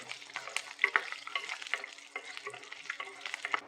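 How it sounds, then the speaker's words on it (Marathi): Peanuts fry in a couple of spoonfuls of oil in a pan. A soft, close crackle of popping and sizzling comes with light stirring clicks and scrapes, quiet and with no talking. "मी 2 चमचे मोठे तेल घातलेलं आहे. त्याच्यात शेंगदाणे जरा परतायला थोडा वेळ लागतो."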